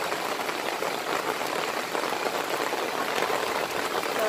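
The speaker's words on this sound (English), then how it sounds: "the rain is starting up again." Steady rain falls outside, a dense, even hiss of drops spattering on surfaces that holds at a constant moderate level throughout, with no voices.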